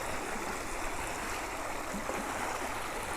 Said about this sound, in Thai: น้ำใสไหลเย็น น้ำใสมาก